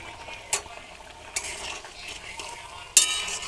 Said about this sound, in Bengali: ঝোলটা ফুটে গেছে, এবারে ভেজে রাখা পনিরগুলো আস্তে আস্তে দিয়ে দেবো।